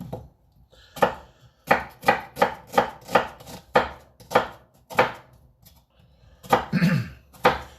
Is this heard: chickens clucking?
no